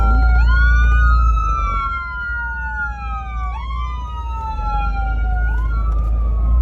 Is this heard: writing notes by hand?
no